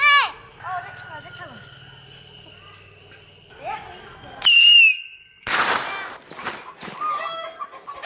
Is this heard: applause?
no